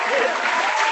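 A short burst of applause sound effect cued during a gift card giveaway to a top fan, dense and steady throughout, near and fairly loud.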